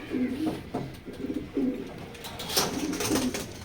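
Racer pigeons cooing nearby, a series of soft low rolling coos repeating every half second or so, with faint background rustle and a brief higher sound, no speech.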